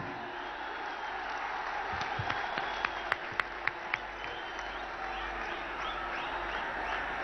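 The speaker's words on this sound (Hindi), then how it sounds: "जोरे हाथ ताली देवें।" Applause and crowd noise fill a large outdoor political rally at Brigade Parade Ground as the Prime Minister is welcomed, a steady broad wash with a few sharp claps standing out, continuous and moderately loud throughout.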